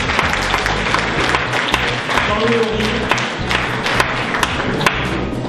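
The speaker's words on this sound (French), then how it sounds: "On peut les applaudir" Audience applause for the winning group at a corporate seminar game, a steady dense clapping running throughout, with a voice announcing a name over it.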